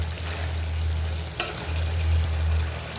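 Curry of hilsa fish with vegetable stalks is sautéed in a pan, giving a steady close sizzle with a low hum and one brief clink of a utensil, with no talking.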